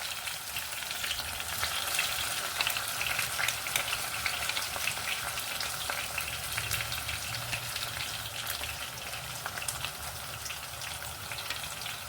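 Chili powder going into a pan of frying onion and spinach curry gives a steady, bright sizzle with a faint crackle throughout, close and continuous with no talk.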